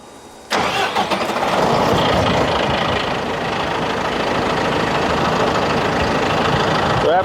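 A diesel-powered pneumatic grain vac engine cranks and catches after a brief pause, then settles into a loud, steady, rough diesel idle close by.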